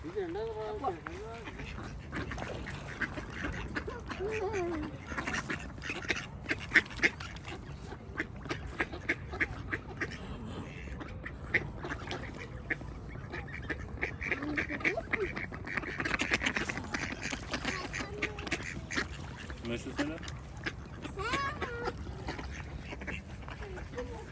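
Ducks quack repeatedly during an outdoor walk in Germany past flowers and trees, with people talking over steady background noise.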